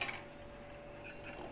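A spoon scrapes and clinks faintly against a metal pot while rice rava is stirred into about a litre of water, giving a few soft metallic taps and scrapes at close range in an otherwise quiet kitchen.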